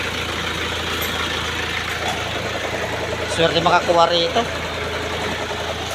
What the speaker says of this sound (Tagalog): Naririnig nyo guys yung tunog ng makina.